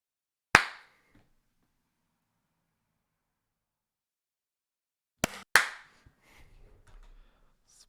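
Claps from people over a Discord call come through as sharp isolated cracks: one single clap, then a long silence, then two quick claps followed by faint rustling.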